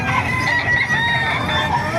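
Several roosters crow and cluck close by at a chicken market in Calumpit, Bulacan, overlapping one another against a busy background of other fowl.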